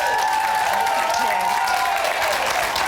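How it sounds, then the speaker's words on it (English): Studio audience applauding on a reality TV show, a steady, dense wash of clapping that fills the whole stretch at full loudness, with cheering voices mixed in. "That deserves a round of applause."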